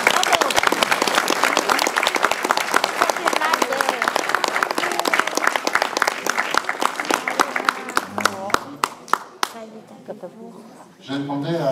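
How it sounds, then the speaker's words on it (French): An audience applauds loudly after a musical performance by a clique band at Cruet, a dense roar of clapping that thins out toward the end as a voice begins to talk. "Et on peut les applaudir très fort."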